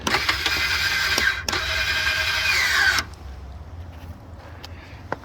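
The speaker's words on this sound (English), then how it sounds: "It has motorized stabilizers." Motorized stabilizer jacks on a Winnebago Micro Minnie 2108FBS travel trailer run with a steady, loud mechanical whine for about three seconds, break briefly, then stop, leaving quiet background and a couple of faint clicks.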